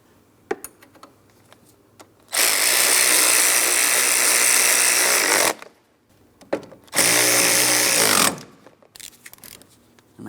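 A power tool snugs down the two mounting bolts on the A/C condenser of a 2004-2008 Pontiac Grand Prix 3.8L V6, giving two loud, close whirring bursts, the first about three seconds long and the second shorter, with quiet clinks around them.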